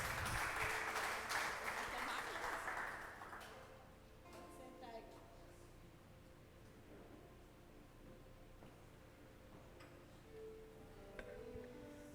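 A church congregation at an evening service applauds loudly for about three seconds, then the clapping fades into quiet room sound with faint clinks and ticks.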